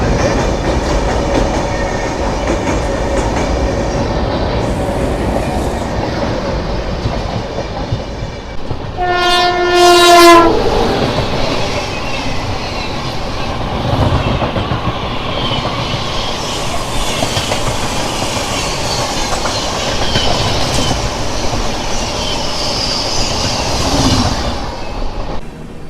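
An express train runs at speed with a constant loud rumble and rhythmic clickety-clack from the wheels. Its horn sounds once, clearly, about a third of the way through, and the rolling noise continues unbroken around it.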